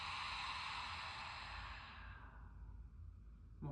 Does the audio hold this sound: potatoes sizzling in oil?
no